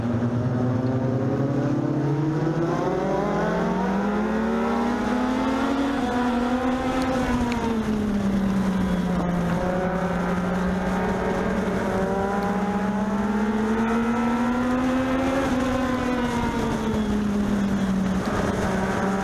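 Legends race cars circling Meridian Speedway make a loud, continuous engine drone that climbs and falls as they accelerate down the straights and lift for the turns, with no talk over it.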